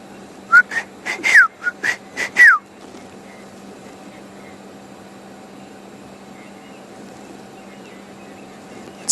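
Shelley's francolin calling in the African bush at sunset, a brief burst of several rhythmic whistled notes at moderate distance, followed by quiet background hum.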